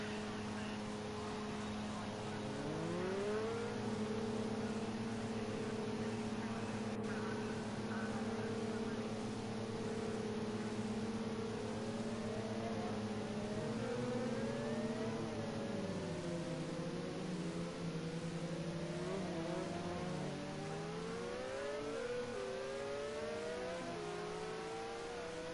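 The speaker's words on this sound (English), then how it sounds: "So here we go, the 333 SPs, LMP 900 class." Ferrari 333 SP LMP900 prototype race cars lapping Spa in a racing video game, several engines howling and shifting up and down through gears, rising and falling steadily, with faint commentary at times.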